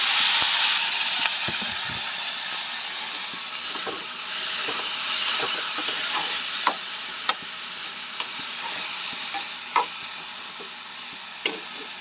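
Chopped tomatoes fry with dried prawns in a pan, giving a continuous close sizzling hiss broken by occasional sharp clicks and scrapes of stirring.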